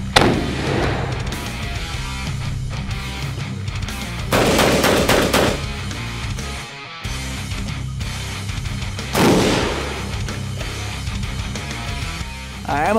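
Several loud, close shotgun blasts from a Franchi Intensity shotgun, fired outdoors and spaced seconds apart, each with a sharp crack and a trailing echo.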